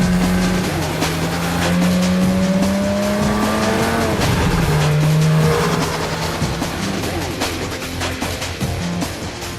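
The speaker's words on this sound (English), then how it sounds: "another roll test takes the car up to speeds of 75 miles per hour" Porsche 911 GT3 running on a factory roll test rig up to 75 mph, a steady loud engine and drivetrain drone with shifting harmonic tones rising and falling, close and continuous with no talk.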